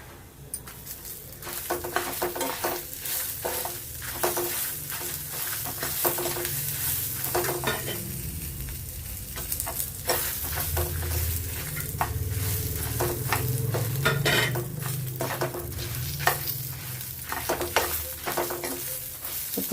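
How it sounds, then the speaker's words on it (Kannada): Curry leaves sizzle and crackle in hot oil in a pan while cucumber huli is being made, with a steady frying hiss and occasional stirring and scraping against the pan, close and continuous, with no talking. "ಚೆನ್ನಾಗಿ ಫ್ರೈ ಆಗಲಿ. ಕರಿಬೇವು ಹಾಕ್ತಾ ಇದ್ದೀನಿ."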